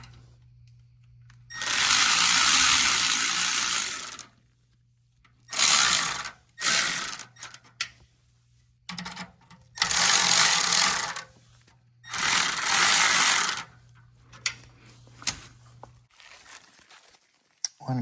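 Ratchet tightening bolts on V-band clamps for a Porsche 992 Turbo S in a garage, heard as several loud bursts of rapid clicking separated by short pauses, with a steady low hum underneath.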